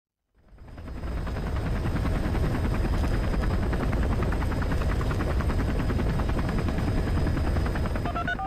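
Steady, loud, close rotor thrum and engine whine of a medical transport helicopter carrying a pregnant patient in Jeju, rising from silence and continuing unbroken.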